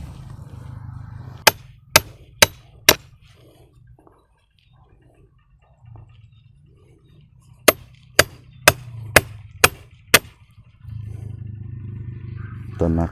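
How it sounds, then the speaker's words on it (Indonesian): A chisel is struck repeatedly to cut the wood of a Brazilian rain tree bonsai, giving sharp, close knocks in two bursts, first four and then six. A low voice murmurs between them. "pakai pahatnya pukulin"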